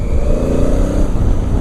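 A 2017 Honda Africa Twin motorcycle engine drones steadily while riding, a loud low rumble with wind noise and no voices.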